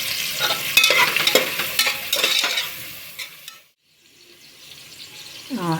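Salted onions sauté slowly in a pan for mutton biryani, with a close, steady sizzle and busy stirring scrapes that stop partway, leaving near quiet and a faint trickle of water.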